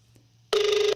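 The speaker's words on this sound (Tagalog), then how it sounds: "nag-ring po sa iyang cellphone ni Mayor ini" A mayor's mobile phone gives a single short ring, a buzzing electronic trill lasting under half a second, close and loud after a brief quiet hum.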